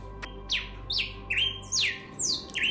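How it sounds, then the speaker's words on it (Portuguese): A red-crested cardinal sings six or seven quick, bright chirps, each a short rising-and-falling note, in a steady rhythm. It sounds fairly close and clear over a soft low background hum. "O passarinho cardeal é certamente muito curioso e singular."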